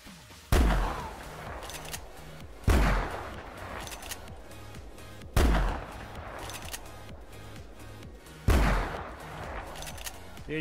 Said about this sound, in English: I brought my engraved version of the 4570 lever action rifle, and you can fire 5 consecutive shots.